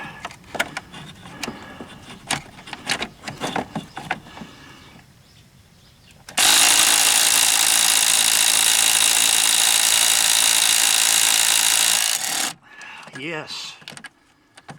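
A Ryobi electric impact tool works on a C5 Corvette harmonic balancer, giving a loud continuous whir of about six seconds after a stretch of clattering workshop noise, then it stops and brief faint sounds follow.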